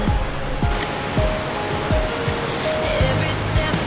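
A waterfall cascading as a continuous, loud rushing roar of falling water that stays steady throughout, with no voices.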